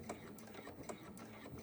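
Sewing machine slowly stitching a crossbody bag, hand-cranked over a bulky seam, giving a faint, uneven series of soft mechanical clicks and thumps.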